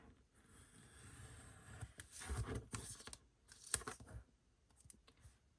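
A blade slicing through paper or card while cutting out a vintage photo file piece, heard as a few close rasping, tearing strokes with a sharp click, fairly quiet with no talk.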